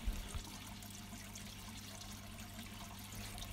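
A pond skimmer pump moving water, giving a faint, steady wash of running and trickling water with a low hum beneath and no voices.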